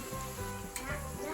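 Dandelions fry in hot oil in a cast iron deep skillet, giving a steady, dense sizzle with soft bubbling crackle throughout, close and continuous with no talking.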